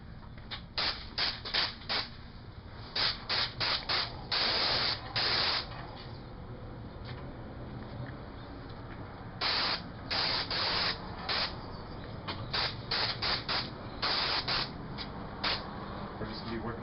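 A paint sprayer coats previously painted stucco trim with accent colour, firing repeated short hissing bursts in clusters with quiet pauses between, close and steady.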